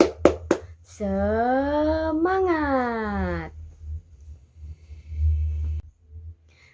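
A primary-school class in a social studies lesson does a spirit clap, a quick burst of four or five sharp claps, followed by a long drawn-out chanted voice and quieter scattered noises.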